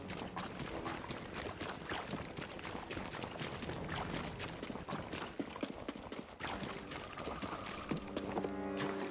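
A cow moos in the video game Star Wars Jedi: Fallen Order, set among busy, continuous game sounds with clattering and steady tonal hums; no one speaks.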